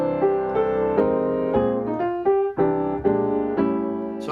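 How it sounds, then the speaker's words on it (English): Jazz piano chords in spread voicing, roots with tenths or sevenths, struck in a swinging rhythm of about eight ringing chords that sound full and close, with no talking over them. "I was playing spread voicing to fill out, to get a fuller sound like this"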